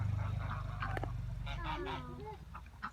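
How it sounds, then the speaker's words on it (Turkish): Turkeys in Bolu Dörtdivan give a short run of nasal, wavering calls over a low background hum, fairly faint and close together, without talk. "Evet hindiler."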